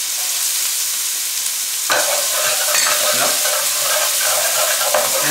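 Chillies drop into a hot pan for lamb vindaloo, and a sudden loud burst of sizzling flares up and then holds as a steady crackling fry with some stirring.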